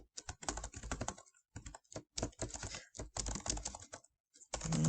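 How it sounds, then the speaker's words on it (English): A computer keyboard is typed on up close in quick bursts of clicking keystrokes with short pauses between runs. "I'm not hitting enter. I am actually just typing"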